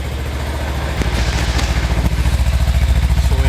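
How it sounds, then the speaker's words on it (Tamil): Exhaust note of a 2021 Kawasaki Ninja 300 BS6 motorcycle, a close, loud idle that blips into a fast, pulsing rev partway through, engine alone without talk. "Let me show you the exhaust note."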